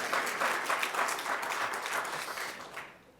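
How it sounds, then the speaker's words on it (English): Audience applause at a city Women's History Month briefing event, a dense steady wash of many hands clapping that fades out near the end, with no talking over it. "Applause is great."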